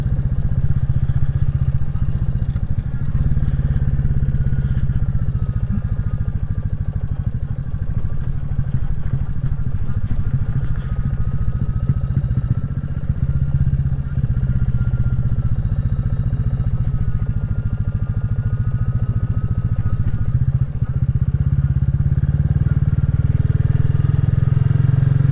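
A Royal Enfield Classic 350 motorcycle rides along country lanes in mid Wales. Its steady single-cylinder engine thrums continuously, with wind rumble and some road clatter over a long stretch.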